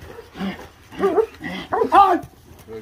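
A young German Shepherd barks, yips and whimpers in short excited bursts during protection training, close to the microphone, with a voice nearby.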